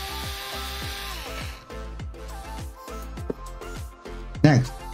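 A power drill whirring in repeated short bursts, pitch dropping as it bites, with a sharp thump near the end.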